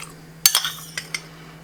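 A tablespoon adds kefir grains to sugar water in a jar, making a few bright metallic clinks and a soft scrape, close and brief against a quiet hum.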